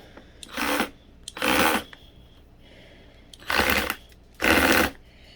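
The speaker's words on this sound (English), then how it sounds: "Now in my case, I'm using a drill." Four short bursts of a power drill on a low torque setting driving screws while assembling a Dirt Devil vacuum, each whirring for under a second with pauses between, fairly close and moderately loud.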